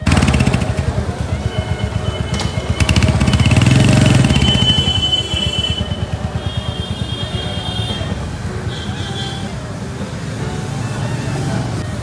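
Rumbling Royal Enfield Hunter 350 engine running steadily as the bike rides along, loud and close, with a brief swell in revs and passing traffic noise.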